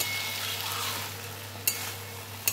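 A Malabar spinach (pui mituli) dish is stirred as it fries in a pan, giving a steady close sizzle with two sharp utensil clinks against the pan near the end.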